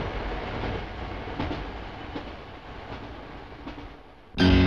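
A British Rail Class 210 PEP prototype train runs with a steady rolling rumble and periodic clicks of wheels on rail joints, ending abruptly in a louder burst of different sound.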